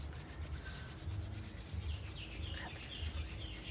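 Two hands rubbing briskly together, a soft, steady dry swishing friction repeated in quick back-and-forth strokes, close and quiet with no talking.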